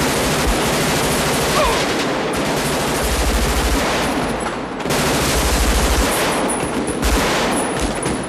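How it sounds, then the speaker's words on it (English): Real firearms fire loud, dense, sustained bursts of rapid shots that overlap into a near-continuous barrage, with only brief lulls between volleys. "This is what guns sound like."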